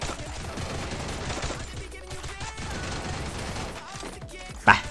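Gunfire in the Free Fire video game comes in scattered bursts and single shots amid game effects, moderately loud with a sharp crack near the end.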